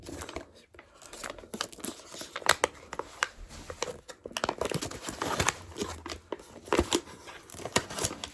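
Paper and tape crinkle, tear and rustle close up while a package is unboxed, bursts of crumpling and ripping in uneven clusters, fairly quiet, with a few soft voice sounds between them.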